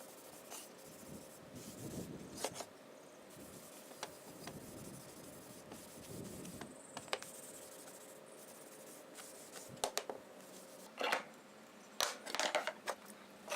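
Soft rubbing and scuffing of a rag spreading and wiping Varathane Weathered Gray wood stain on a wooden blanket ladder, faint and intermittent with a few louder scrapes and knocks near the end, no talking.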